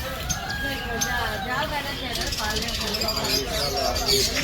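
A crowd of chickens and ducks clucks and squawks in a noisy, enclosed bird market in Dubai, with a person talking over the bird calls.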